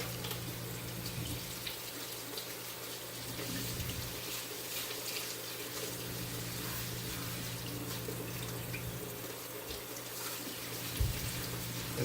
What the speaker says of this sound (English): Now we're gonna rinse the rice until it runs clear on cold water.